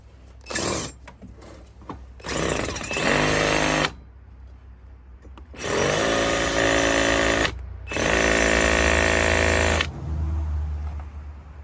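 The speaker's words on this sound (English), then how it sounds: "let's see if I could actually drill this" A drill bores into a stripped exhaust manifold nut on a Mercedes, running in several loud, sustained bursts separated by short pauses, with no talking.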